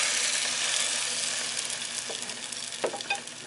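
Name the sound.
bread dipped in egg, milk and cinnamon sizzling in pan on electric burner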